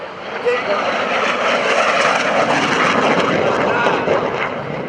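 Loud roar of a propeller airplane passing overhead at the 2011 AirPower Over Hampton Roads airshow, swelling and holding steady, with a voice audible under the engine noise.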